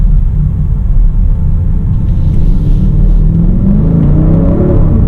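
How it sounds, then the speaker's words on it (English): A 2020 BMW X5 M Competition accelerates hard from a tight U-turn, its engine rising from a deep rumble into a climbing, revving growl that sounds loud and close inside the cabin. "Even not getting wide open throttle, we're getting on it fully."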